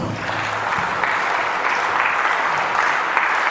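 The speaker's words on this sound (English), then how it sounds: "Give them a round of applause, please." Audience applause at a school investiture ceremony, a steady, dense wash of many hands clapping that holds at a constant level for the whole stretch with no talk over it.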